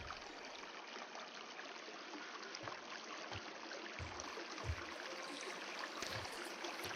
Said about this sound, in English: these water effects are weird